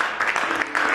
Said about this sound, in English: If you are clapping for Jesus